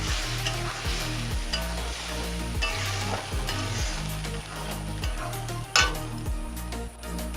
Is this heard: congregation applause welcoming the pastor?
no